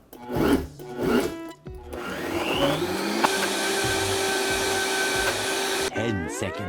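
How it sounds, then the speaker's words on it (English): Vitamix blender on high speed grinding sesame seeds with butter into a paste, a loud steady whirring roar that rises in pitch as the motor spins up, with clunky chopping at the start. "we're gonna blend this on high for about 3 minutes because that would squeeze out all that oil from the sesame and turn it into a paste"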